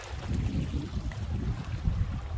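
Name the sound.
wind blowing outdoors on the Appalachian Trail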